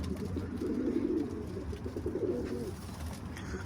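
Antep pigeons cooing inside a coop, low rolling coos repeating in two longer phrases, fairly close and soft against a faint steady background hum.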